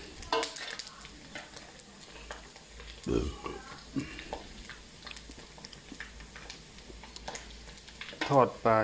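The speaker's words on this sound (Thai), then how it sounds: "ทอดปลาช็อกเกอร์แดดเดียวนะครับ" Sun-dried fish (one-day sun-dried chocker fish) frying in a pan, with a low crackling sizzle running throughout, broken by a few louder stirring scrapes and clatters, including a burst near the end.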